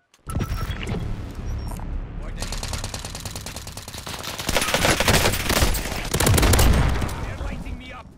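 Rapid automatic gunfire rattles in bursts during a close Call of Duty Warzone match, with dense fusillades swelling loudest toward the end and a voice speaking briefly over the shooting.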